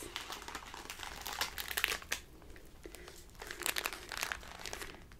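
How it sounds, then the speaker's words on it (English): Crinkly cocoa packets handled up close, with bursts of sharp plastic crinkling and crunching that come and go over several seconds, no voice. "These delightfully crinkly little packets."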